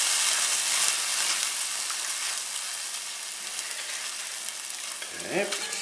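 Ground cumin, about half a teaspoon, stirred into chili frying in a pot. A steady, close sizzle runs throughout with a brief utensil knock near the start and a rising scrape near the end.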